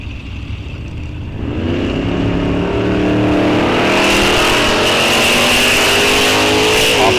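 Drag racing cars launching side by side at Rock Falls Raceway, a loud close engine roar that swells and climbs in pitch as they accelerate away, with no voices.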